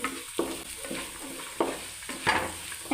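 Pork curry ingredients sauté in a pan for Kerala-style pork curry, a steady soft sizzle with several sharp scraping stirs of a spoon against the pan.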